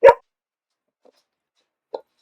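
A pet dog gives one short, loud bark close by at an indoor home, followed by two fainter yips after a brief silence.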